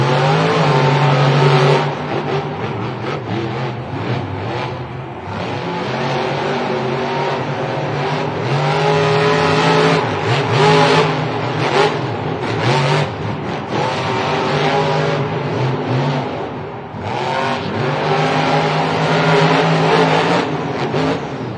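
Monster trucks Excalibur and Kraken race side by side in a Seattle stadium at Monster Jam, engines roaring loud and continuous with revving surges and throttle swells throughout, tires scrabbling, the full pack close and dominant.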